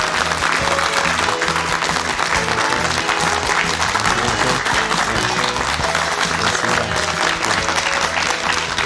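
A studio audience on a Korean morning talk show applauds to welcome a professor guest. The clapping is loud and sustained across the whole stretch, with music playing beneath it.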